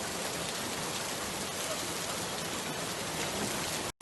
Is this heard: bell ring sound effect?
no